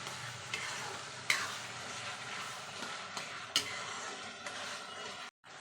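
Cooked vegetables stirred in a pan with a spoon, a steady sizzling scrape punctuated by a few sharper clinks of utensil against the pan, close and moderately loud.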